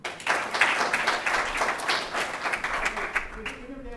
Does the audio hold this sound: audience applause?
yes